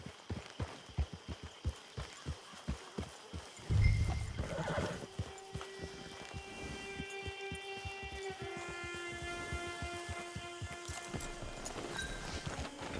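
A horse in the video game Red Dead Redemption 2 clip-clops along in a steady rhythm, then lets out a loud whinny, while a tonal music bed swells underneath as the hooves continue.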